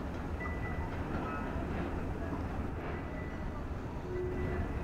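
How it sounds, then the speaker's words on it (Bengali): A train rolls past near the Padma Bridge construction site, a distant, steady low rumble of wagons on rails that holds at an even level throughout. "দেখতে পাচ্ছেন ট্রেনটি"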